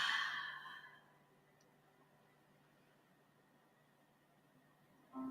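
A single deep exhale of breath during a guided breathing exercise, soft and close, fading out into quiet room noise over about a second.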